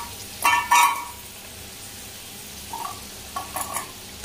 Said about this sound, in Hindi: अब जो तेल बचा है उसमें बचा हुआ जिमीकंद डाल के फ्राई कर लेंगे।